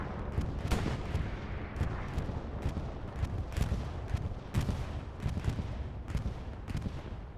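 A bombing round of artillery in a war video game sets off a dense run of booms and sharp blasts over a continuous rumbling roar, loud and unrelenting, with no voices.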